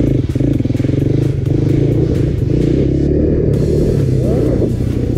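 A quad bike engine revs hard during a wheelie, a loud close-up throbbing motor roar with a rapid pulsing beat that holds high and steady throughout.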